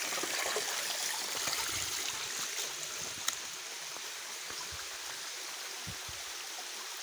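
Steady broadband rush of a forest stream flowing continuously nearby, with faint low knocks and rustles underneath and a single brief click partway through.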